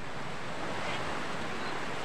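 Ocean waves wash steadily along the shore at the sea of Sitio Recodo, a continuous broadband surf roar with some wind buffeting on the microphone and no voices.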